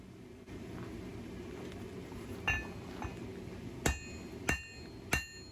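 Hammer blows flatten hot steel while a bushcraft knife is forged from junk metal; after a few lighter taps come three sharp, ringing metallic strikes spaced under a second apart, close and loud over a low background rumble.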